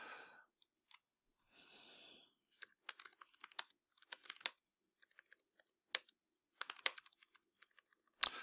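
Quiet, close typing on a computer keyboard, irregular bursts of light key clicks with short pauses between them and a soft rustle near the start.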